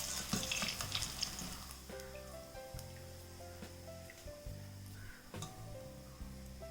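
Onion fritters fry in hot oil with a faint, continuous sizzle and crackle, while soft clinks and tonal kitchen sounds play over it and no voice is heard.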